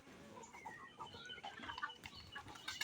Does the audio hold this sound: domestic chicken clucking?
yes